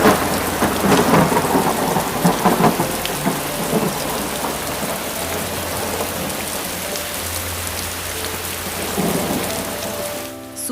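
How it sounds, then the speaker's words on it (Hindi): Heavy rain pours down loudly and steadily while thunder rumbles and cracks through it, a dense close downpour that fades away near the end. "तेज बारिश हुई।"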